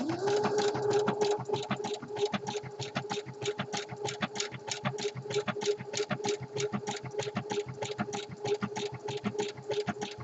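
A sewing machine stitches fold-over elastic onto the raw edges of a jockstrap pouch in fast, even bursts of needle strokes. It runs steadily for about ten seconds and sits quiet and close.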